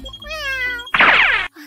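A cat meows in a drawn-out, tonal cry that gives way to a harsher, noisy burst, loud and close, followed by a brief quiet tail with no speech.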